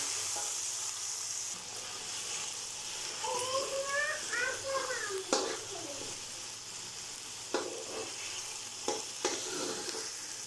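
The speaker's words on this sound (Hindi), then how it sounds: "साथ ही टमाटर, हरी मिर्च, अभी इसको अच्छे से भून लेंगे।" Tomatoes and green chillies sizzle as they fry in a pan for vegetable pulao, with scraping stirs and clicks of a spoon, and a voice briefly sounds in the background.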